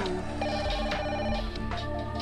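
A telephone rings in a Deal or No Deal video game as the banker calls, with repeated electronic trills over a busy game-show backdrop.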